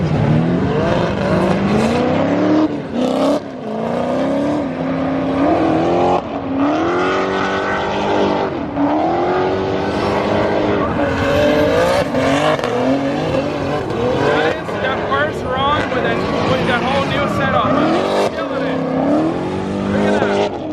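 Engines on BMW E36 and BMW E30 drift cars with new suspension, intake manifold and tires roar and rev hard during a Formula Drift practice run, with squealing tires and shifting engine pitch, loud and continuous, with voices talking over it.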